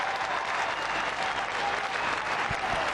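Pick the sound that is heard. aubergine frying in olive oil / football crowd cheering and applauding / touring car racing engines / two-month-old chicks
football crowd cheering and applauding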